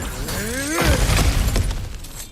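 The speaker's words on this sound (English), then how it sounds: "Back to smashing through things for fun and profit." A loud crash in God of War Ragnarök as cracked ground is smashed through, with a rising whoosh first and then a heavy shattering impact of crumbling debris that fades out.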